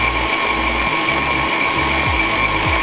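Electric mixer with a whisk running in brownie batter, a loud steady mechanical whirring with a faint rhythmic ratcheting beneath it, no voices.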